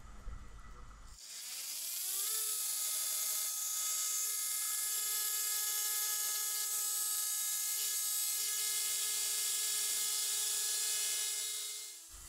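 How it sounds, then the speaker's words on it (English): An oscillating bone saw cuts through the zygomatic arch during a dog maxillectomy, a steady high-pitched whining buzz with strong harmonics that spins up after a second and runs continuously for about ten seconds, close and unbroken. "the zygomatic arch is isolated and an osteotomy is performed using an oscillating saw"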